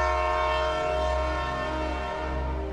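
Train horn sounding as an effect in a radio drama about hopping freight trains, a steady sustained chord of tones over a low rumble, loud and unbroken for the whole stretch with no voices.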